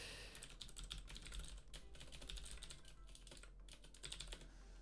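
Rapid clicking keystrokes on a computer keyboard, continuous and fairly close, over a low electrical hum.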